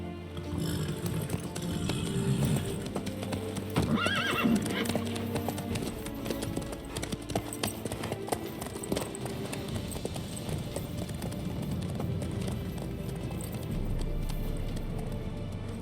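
In The Witcher 3, hooves clip-clop in a fast, steady gallop under a game soundtrack and dialogue, with a brief whinny early on; the ride stays loud and close throughout.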